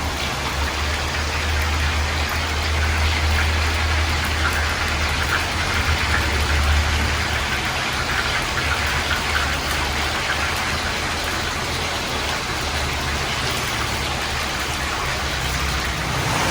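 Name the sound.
heavy rain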